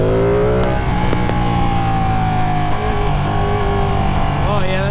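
A Ducati 959 Panigale motorcycle pulls hard in second gear, its engine note rising steadily and loud up close, with wind roar underneath and a brief rev surge near the end.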